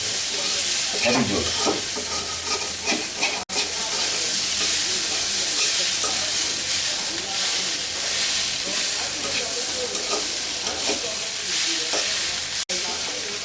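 Green chillies fry with pumpkin in a pan, giving a loud, constant sizzle layered with repeated scraping strokes of a stirring utensil, with a few brief cutoffs along the way.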